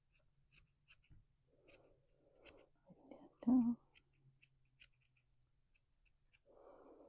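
Scissors snip through yarn in a quiet room, soft repeated cuts with one louder close snip in the middle, mixed with faint scratchy handling and brief whispering.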